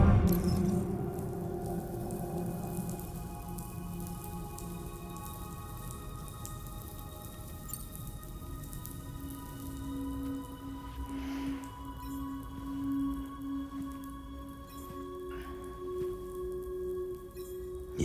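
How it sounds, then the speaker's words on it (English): Rain in the video game Death Stranding 2 falls as a soft, steady patter with scattered droplet ticks, sitting under sustained low tonal hums of the game's ambience and staying quiet and even throughout. "Those raindrops are falling on my head, they keep falling."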